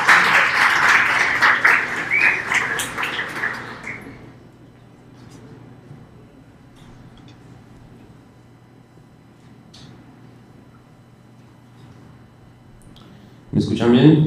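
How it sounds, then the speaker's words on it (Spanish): Loud crowd applause at a tech conference fills the first few seconds, then fades into a quiet room hum before a burst of noise returns at the end. "recibámoslo con un aplauso."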